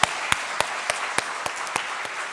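A church congregation's applause during a Sunday service, with sharp, evenly spaced claps standing out over a softer bed of clapping, moderately loud.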